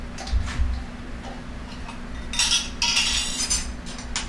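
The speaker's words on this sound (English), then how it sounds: "I get a generous teaspoon of it" A teaspoon scooping sandhill plum jelly from a jar beside a glass of ice, giving a few close clicks and taps of metal on glass, then a brighter clinking scrape near the end.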